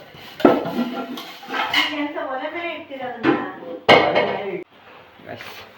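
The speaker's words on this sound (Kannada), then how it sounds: "ಈಗ ಒಗ್ಗರಣೆ ಕಸಕ್ಕಾಗಿ ಪಾತ್ರೆ ತೊಳಿತಾ ಇದ್ದೀವಿ. ದೊಡ್ಡ ಪಾತ್ರೆ ಐತೆ" A big cooking pot is washed at close range, with clanks and scraping knocks of metal cookware against other dishes coming in several loud bursts over running sounds, while people talk.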